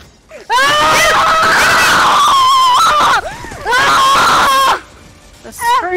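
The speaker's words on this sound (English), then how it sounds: "The screaming." Loud, drawn-out screaming from several voices in a VR video game, two long bursts with a short pause between, then a brief final shriek.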